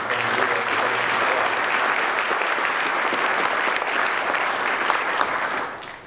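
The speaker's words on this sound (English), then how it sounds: "let's give Bob a round of applause" Dense, loud audience applause for Bob during Tim Pawlenty's 2011 visit to Pella, Iowa, sustained clapping from a crowd that tapers off at the very end.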